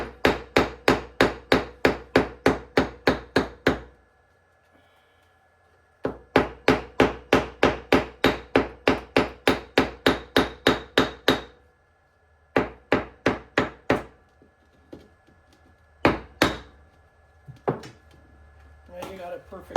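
Quick, evenly spaced hammer blows on metal tubing for a truck cab corner patch panel, in several bursts of a dozen or more strikes, sharp and metallic, with short quiet gaps between runs.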